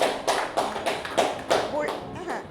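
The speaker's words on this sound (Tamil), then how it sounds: "கைத்தட்டு." A series of sharp hand claps, roughly one every third of a second, mixed with quiet voices and shuffling nearby, during a listening exercise at a school for hearing-impaired children.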